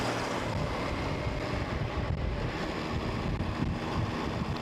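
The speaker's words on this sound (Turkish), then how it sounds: "Ama inanılmaz bir rüzgar var." Loud, continuous wind buffeting the microphone while riding an MV Agusta Veloce motorcycle, a dense roaring rush with no clear pauses and no voices.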